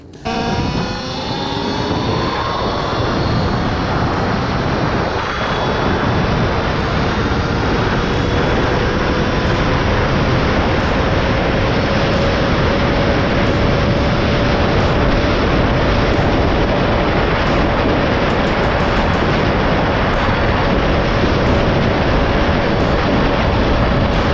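A Talaria XXX electric dirt bike runs at top speed, its motor whine rising steadily over loud, constant wind roar that persists close and unbroken throughout.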